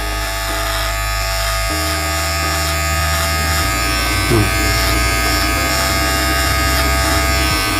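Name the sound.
electric hair trimmer shaving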